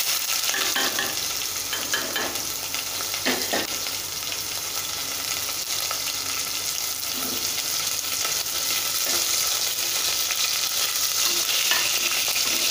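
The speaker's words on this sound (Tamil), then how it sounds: "வெங்காயம் நல்லா வணங்கட்டும்." Chopped onions and curry leaves fry in hot oil, a steady dense sizzle that stays loud and close throughout, with occasional faint stirring clinks underneath.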